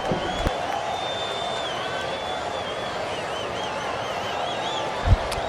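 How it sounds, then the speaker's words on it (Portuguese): Supporters of Guarani voice steady crowd noise, mixed with chants and whistles, at an under-14 youth football match between Guarani and Itatiba São Bernardo, with one sharp thump near the end. "Torcida do Guarani"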